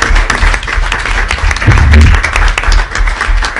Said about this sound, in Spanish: les voy a dar un aplauso